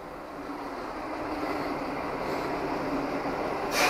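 Broad, steady rumble of a train that swells gradually louder as it approaches, with a brief hiss near the end.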